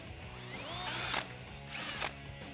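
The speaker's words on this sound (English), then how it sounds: "Then we can grab a 7/32 inch drill and drill a hole for our self-tapping screw." A power drill with a 7/32 inch bit drills a hole for a self-tapping screw on a Jeep Wrangler JK, whirring in two bursts, rising in pitch as it spins up, with mechanical clicking between them.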